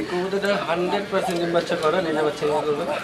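Pigeons coo repeatedly and close by in a loft of birds kept for sale, soft throaty warbles overlapping through the clip, with someone speaking over them.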